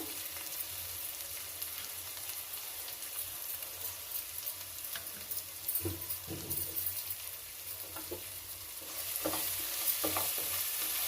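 Sesame coconut rice fries in a pan with a steady, close sizzle while a utensil scrapes and stirs it in irregular strokes, louder toward the end, with no one talking.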